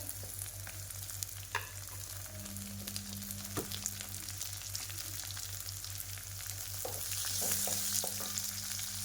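Chopped onion frying in a pan for soybean biryani, a quiet continuous sizzle with occasional stirring clicks and a low steady hum underneath, no voices.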